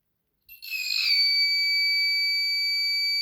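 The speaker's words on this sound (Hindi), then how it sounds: "ठीक है, बज़र और लाइट दोनों ऑन है" Buzzer of a water level indicator circuit for an underground tank, switching on when the level drops below 25% and sounding a steady, loud, high-pitched electronic tone that starts abruptly and holds continuously, with no talk.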